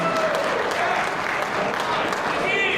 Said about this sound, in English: can we give a big round of applause for Jon Fiore, Gigi Sesto on The Sopranos